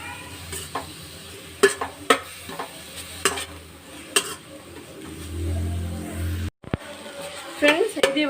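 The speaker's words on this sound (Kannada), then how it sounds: "ಇದ್ರದ್ದು ಹಸಿ ವಾಸನೆ ಹೋಗೋ ತನಕ ಇದನ್ನು ಚೆನ್ನಾಗಿ ಫ್ರೈ ಮಾಡಬೇಕು." Grated carrot frying in ghee in a pan for carrot halwa, with a steady low sizzle and repeated stirring scrapes and clinks of a spoon against the pan, a brief dropout midway.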